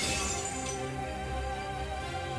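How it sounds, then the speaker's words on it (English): A glass-like crystalline barrier shattering in the Fate/Stay Night video game, a bright crash at the start that trails off into tinkling debris over a low sustained game soundscape. "The crystalline barrier shatters under the deadly rain of so many weapons."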